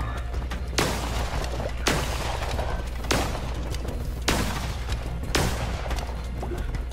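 Gunfire and blasts in the video game Cult of the Lamb come as five heavy impacts at roughly one-second intervals, loud over a steady droning game backdrop.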